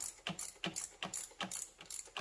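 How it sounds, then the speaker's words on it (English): A socket ratchet clicks in quick, quiet bursts while bolts are snugged down on a 1993 GMC Typhoon, with a rhythmic series of close metallic pawl ticks repeating several times a second. "I'm just tightening down 1, 2, 3, 4, 5, 6."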